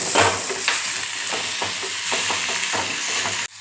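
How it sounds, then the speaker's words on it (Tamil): Onions and curry leaves sautéing in hot oil for an ayira fish dry fish dish, with a loud, continuous sizzle broken by repeated rhythmic scraping strokes of a spatula, close up. "இந்த கருவேப்பிலை வரையும் இப்படி வதக்க நம்ம வீடியோவில் காட்டுவோம்"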